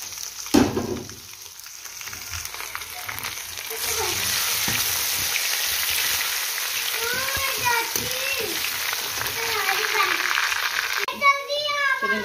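Chopped ginger and garlic frying in hot oil in a home kitchen pan, a steady broad sizzle throughout with a brief louder crackle near the start, while someone talks over it and a voice chimes in near the end.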